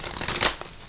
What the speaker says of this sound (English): I'm trying to shuffle, but I'm having a hard time.